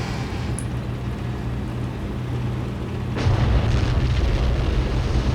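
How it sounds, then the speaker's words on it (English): Ammunition cooks off inside a hit tank in Steel Beasts, a continuous distant rumble of muffled booms and crackling bursts that swells louder midway through. "That's some ammunition cooking off from a previous target that we hit"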